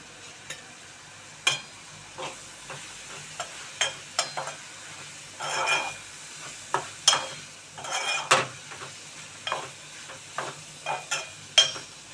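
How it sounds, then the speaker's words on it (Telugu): Dried fish frying in a pan, heard as a low background sizzle broken by repeated sharp scrapes and clinks of a spoon stirring against the pan. "బాగా ఎండు చేపలు ఇవి మెత్తళ్ళు కొంచెం వేగే వరకు మనం వేయించుకోవాలండి"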